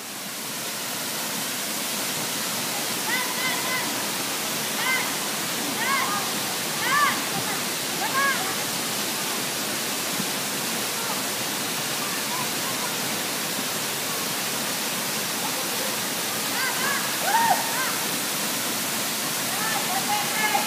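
Kabigan Falls waterfall roars as a constant, loud broadband rush of falling water, with people calling out faintly under the steady noise.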